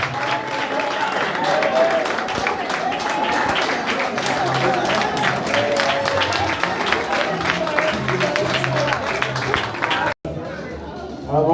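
Wedding guests at a civil and religious ceremony in Grand Lahou applaud and cheer warmly, dense sustained clapping with crowd chatter and voices throughout, cutting off abruptly near the end.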